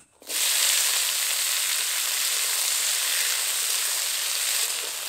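Chopped Malabar spinach and potato hit hot mustard oil with a bay leaf and five-spice tempering, bursting into a loud, even sizzle that holds steadily close by, with no talk.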